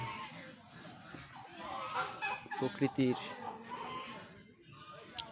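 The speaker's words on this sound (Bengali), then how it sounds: "রাজহাঁস আছে," Swans honk in a park lined with flowers, fruit trees and crops, a cluster of loud honks rising around the middle while someone narrates over them.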